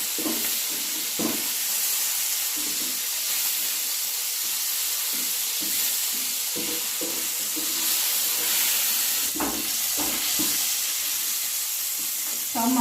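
Prawns fry in hot oil in a Bengali home kitchen, a continuous loud sizzle with crackling bursts and occasional stirring clatter, no speech over it.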